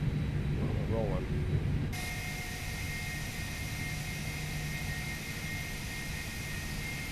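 Airbus A320 at the gate in the X-Plane Toliss simulation, engine 2 running as a steady broadband jet roar with a faint tonal whine, loud and continuous throughout, after a brief stretch of speech at the start.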